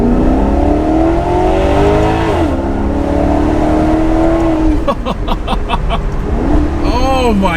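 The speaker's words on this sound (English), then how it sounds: "You can just hear that V8 growl." A Maserati GranTurismo V8 engine revs up and settles, a loud close growl with rising and falling pitch sweeps, a couple of sharp blips near the end.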